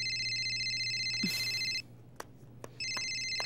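A mobile phone ringtone chimes in repeated bursts, a stretch of sustained electronic tones, a pause with a few soft knocks, then the ringing resumes; fairly quiet and close, no voices.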